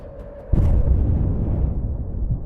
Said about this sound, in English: Another accurate shot hits the tank precisely, causing the two vehicles behind it to stop and retreat